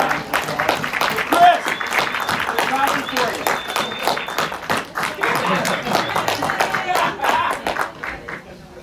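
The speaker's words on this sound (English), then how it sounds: "round of applause" An audience at a baseball club's holiday auction fundraiser gives a round of applause: a scattered patter of hand claps that runs throughout, with talk carrying over it.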